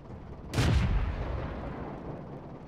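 The T18 tank destroyer's gun firing in World of Tanks, one heavy, booming shot that erupts abruptly and decays into a lingering low rumble.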